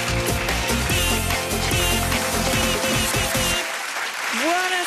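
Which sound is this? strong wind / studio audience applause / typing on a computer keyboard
studio audience applause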